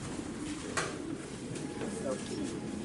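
Racing pigeons coo softly in a breeder's loft, low murmuring calls repeating over a steady background, with people talking nearby.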